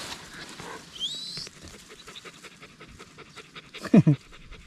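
A tired dog pants in quick rhythmic breaths outdoors in hot sun on a chili and tomato farm, with a few louder huffs near the end and people talking nearby.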